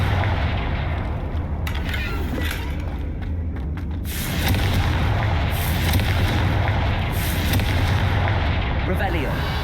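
The Confringo fire spell in Hogwarts Legacy bursts into a loud, rumbling explosion over a steady low roar, followed by sustained crackling blast noise.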